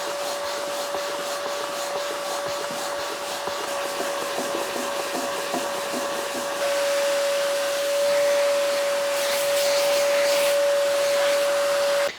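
A vacuum cleaner runs steadily with a high whine and airy roar, hoovering sanding dust out of sandpaper while a raw-wood guitar body is sanded; the tone shifts and grows louder partway through as the nozzle moves.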